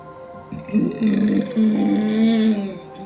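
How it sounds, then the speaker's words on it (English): A long, drawn-out low burp, rumbling for about two seconds with a brief break in the middle, close and fairly loud. "So I will be burping a lot."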